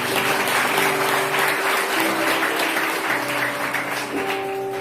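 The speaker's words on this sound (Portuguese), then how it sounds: "Pode aplaudir, se entender." A crowd claps in sustained, dense applause, loud and steady for a few seconds, with faint murmuring mixed in.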